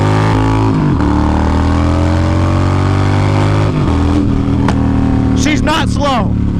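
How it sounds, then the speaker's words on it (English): A Yamaha Stryker 80 cubic inch chopper motorcycle engine rumbles loudly up close and revs hard, its pitch climbing through the gears with rising and falling whines at the end. "let's give it the beans."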